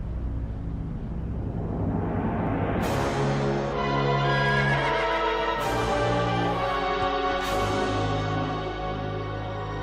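A horse in Zelda: Twilight Princess whinnies several times, with falling, drawn-out neighs layered over a sustained game soundtrack.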